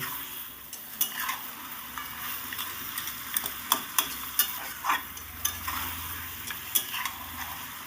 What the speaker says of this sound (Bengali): ভালো করে একটু এবার নেড়ে চেড়ে দেবো খুব সুন্দর করে আমি এটা চার থেকে পাঁচ মিনিট ভালো করে নেড়ে নেড়ে একটু ভাজা ভাজা করে নেব